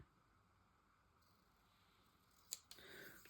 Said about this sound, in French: je vais couper le bord ici